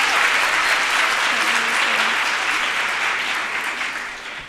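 Sustained applause from a crowd at a career day event fills the space, loud and steady before fading slightly at the end, with a faint voice briefly audible beneath.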